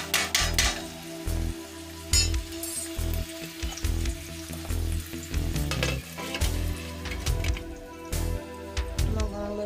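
Steak and vegetables frying in a pan on a home stove, with a loud close sizzle and repeated knocks and scrapes of a utensil against the pan; tonal background sounds hum beneath throughout.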